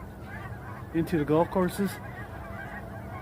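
A burst of goose honks from geese flying north overhead rings out for about a second, several calls in quick succession, while someone speaks briefly over steady wind noise.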